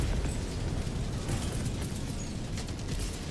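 Heavy 500kg bomb blast in Helldivers 2, a sustained loud rumbling roar of explosion and debris filling the whole moment with no voices over it.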